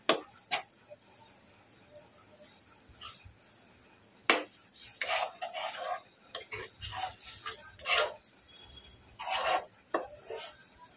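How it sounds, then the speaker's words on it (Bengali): Boiled potato being mixed with cornflour in a pan, with soft, intermittent scraping and knocking of a spoon against the pan, faint and close, with quiet gaps between strokes. "ভালো করে একসঙ্গে আলুর সঙ্গে কর্নফ্লাওয়ারটা মিশিয়ে নেব।"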